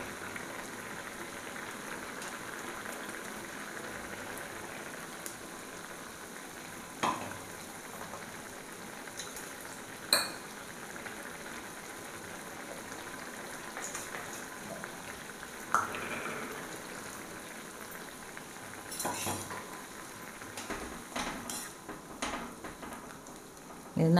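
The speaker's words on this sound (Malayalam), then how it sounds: "ഇത് നല്ലപോലെ ഒന്ന് തിളക്കട്ടെ." Bitter gourd tamarind curry with ground roasted coconut bubbles in a pan, a soft continuous crackle and simmer with occasional louder pops and clinks, fairly quiet throughout.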